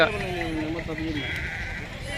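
A sheep bleats once in a long, wavering cry at a busy sheep market in Pebbair, heard close over a steady crowd hum and nearby talking.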